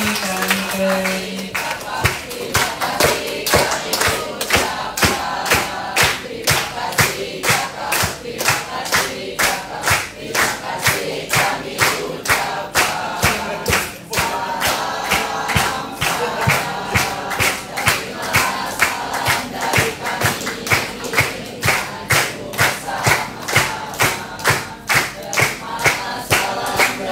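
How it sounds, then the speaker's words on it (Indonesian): Sustained applause with cheering and shouts from a large audience at a KLHK event in Indonesia, dense rhythmic clapping filling the whole stretch, loud and close, with a brief voice near the start. "Tepuk tangan, kakak-kakak."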